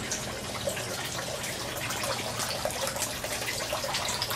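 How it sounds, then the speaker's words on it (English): Water pours from a hose into an aquaponics fish tank with a steady, soft rushing splash that continues evenly throughout, no voices. "Right now I'm putting some water into the fish tank"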